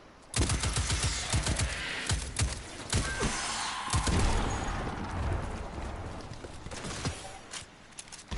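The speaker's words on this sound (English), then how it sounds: "Where is this guy shooting me from?" Enemy gunfire in Destiny 2, a rapid string of sharp shots in irregular bursts, loud and close, over a continuous game-combat background.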